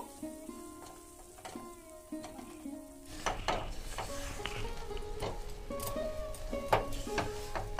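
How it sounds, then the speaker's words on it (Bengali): Fried besan is stirred with khoya in a pan over low to medium heat, with a soft sizzle and scattered scraping taps, quiet at first and then fuller after a few seconds. "বেসনটাকে খুব সুন্দর এবং খুব ভালো করে মিশিয়ে নেব"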